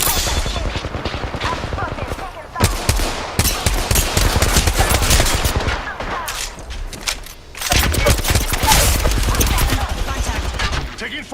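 Heavy gunfire in a video game, long stretches of rapid automatic bursts with booming impacts, loud and continuous with a brief lull midway, while a voice speaks faintly underneath.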